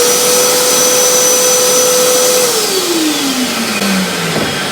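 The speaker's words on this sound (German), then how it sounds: "sauge ich jetzt halt auch immer ganz schnell die Späne weg" A workshop vacuum cleaner runs loud and steady up close, sucking up chips from drilling at a workbench, its motor pitch dropping partway through.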